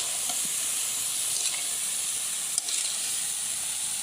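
Wild taro is stirred into a hot frying pan for a village-style dish with small shrimp, giving a steady loud sizzle and hiss with a few light scrapes of a spoon.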